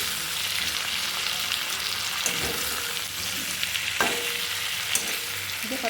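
Ground spices and browned onion sizzle in a pan for chicken curry, a steady close frying hiss broken by a few stirring scrapes and utensil knocks, with no voices.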